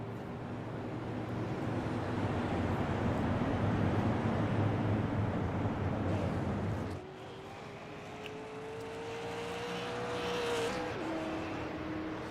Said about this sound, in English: Cars will roll down pit road